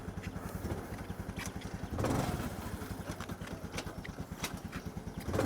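A fuel-injected Yamaha Lagenda 115 motorcycle with electric start runs at idle, its single-cylinder engine giving a close, steady rapid putter that swells briefly once before settling back to an even throb.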